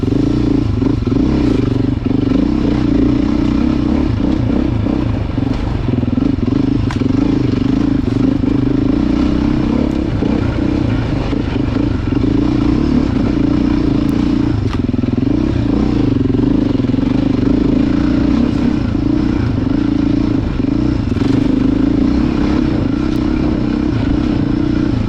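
A Beta four-stroke dirt bike runs continuously over loose terrain, its engine droning and revving unevenly with scrapes and clatter from the ground.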